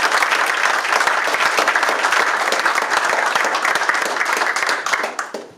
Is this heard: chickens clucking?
no